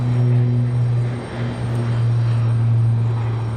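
A United Airlines Boeing 737 MAX arriving at Raleigh-Durham airport, a loud, close engine drone with a strong low hum and a steady tonal whine that dips briefly and then swells again, with no voices.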